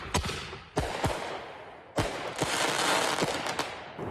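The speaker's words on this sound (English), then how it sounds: "Fireworks any 4 o'clock," Fireworks go off at night in neighborhoods of Allegheny County, a series of sharp, loud bangs at irregular intervals, some doubled in quick succession, each followed by a short crackling tail.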